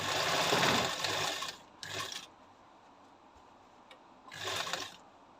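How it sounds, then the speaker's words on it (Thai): A sewing machine stitching a straight seam runs in three bursts of rapid mechanical whirring, the first longest, separated by quiet pauses, close and clear with no speech. "อันนี้เย็บตรงนะครับ เลขมากก็จะห่างนะครับ"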